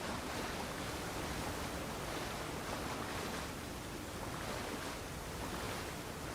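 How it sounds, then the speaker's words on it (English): A waterfall in the fantasy video game Avowed gives a dense, even roar of falling water, loud and steady throughout with no voices over it. "Let's check the waterfall."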